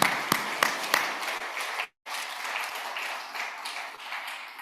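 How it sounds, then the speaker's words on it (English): A closing-ceremony audience claps, with a few sharp distinct claps at first, a brief drop to silence, then a sustained moderate round of applause. "So a big round of applause for all of you."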